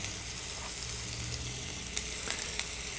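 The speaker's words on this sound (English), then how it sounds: "So the oil is hot. Let's pop in our ground up chilies." Ground chilies sizzle steadily in hot oil in a pan, a close, dense crackle that holds at an even level with a few sharper pops and no voices.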